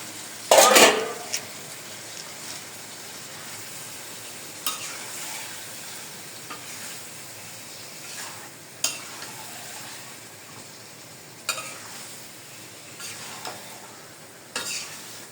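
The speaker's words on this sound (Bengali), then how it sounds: "দশ মিনিট না তো 5 মিনিট মাংসটা সুন্দর করে কষাইতে হবে।" Meat sizzles in spices in a pan while a spoon stirs and scrapes against the metal in intermittent strokes, with a loud clatter near the start and steady frying hiss between, no talking.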